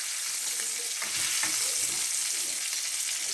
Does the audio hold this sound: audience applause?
no